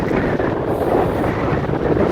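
Strong wind gusting across Mablethorpe beach on the coast, a continuous loud, broadband roar buffeting the microphone with no break and no voices.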